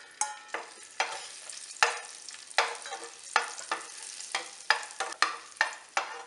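Raisins fry in a pan with a soft sizzle under repeated scraping stirs, each stroke a distinct close swish in a steady rhythm.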